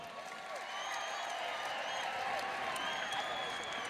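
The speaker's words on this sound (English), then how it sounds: "Give both ladies a big round of applause." Audience applause after a women's fight: a steady, dense wash of clapping mixed with crowd voices and shouts, sustained at an even level throughout.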